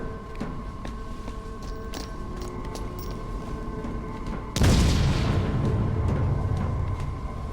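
A grenade explosion in Batman: Arkham Origins erupts as one sudden loud boom that rolls into a sustained rumble, following a stretch of quieter ambient hum and faint clicks.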